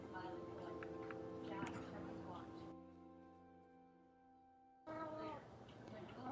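A pet cat meows indoors, a couple of drawn-out calls heard close and clear, with a person talking before and after.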